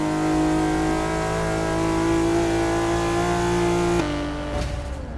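Dodge Challenger Hellcat engine in Forza Motorsport 6 drones loud and steady at high revs, then the note drops abruptly as the throttle lifts near the end, with no talk.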